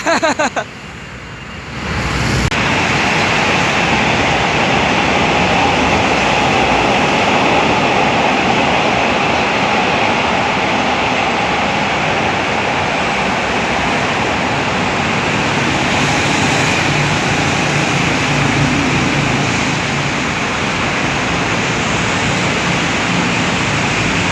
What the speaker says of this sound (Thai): ขณะนี้ก็กำลังมุ่งหน้าเข้าสถานีรถไฟดอนเมือง เพื่อจอดหยุด รับส่งผู้โดยสารนะครับ